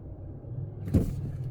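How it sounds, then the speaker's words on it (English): A Renault 5 EV pulls onto a motorway under light throttle, heard from inside the cabin as a low, steady road and motor hum with one brief thump partway through. "Let's see how this feels when you give it a little bit of beans, a little bit of throttle."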